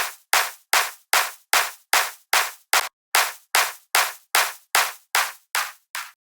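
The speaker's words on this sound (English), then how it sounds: "right underneath we have this little simple clap playing" A simple clap sample in a music track repeating in a steady rhythm, about fifteen crisp, even hits with short decaying tails, isolated and fairly loud.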